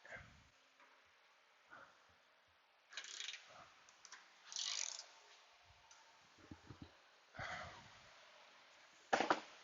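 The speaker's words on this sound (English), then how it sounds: "Let's check this with our handheld ratchet." A handheld ratchet works on a 2005 Honda's front suspension during ball joint and control arm repair, giving bursts of quiet clicking and mechanical rattling spread across the clip, with short pauses between them.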